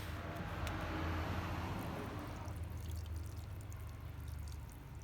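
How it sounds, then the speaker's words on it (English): A watering can pours water onto freshly planted, covered seeds, a continuous splashing gush that is strongest at first and then settles into a lighter trickle, close and alone without speech. "we put a bit of water on them"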